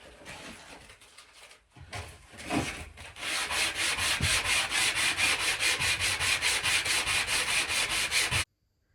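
Narrowboat hatch boards are roughed up with sandpaper at night: a few scattered scrapes, then a long run of fast, even back-and-forth strokes, loud and close, that stops abruptly.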